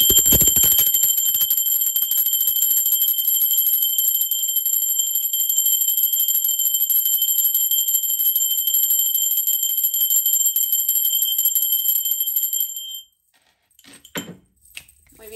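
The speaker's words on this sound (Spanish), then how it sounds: "Va campana, sí, va campana." A small bell rung at the start of a tarot reading gives a sustained, loud, shimmering metallic ring that holds steadily for about thirteen seconds and then cuts off, followed by a few faint scrapes and taps.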